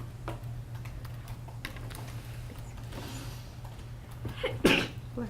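One close, sudden sneeze bursts out near the end, over faint keyboard typing taps and a steady low electrical hum.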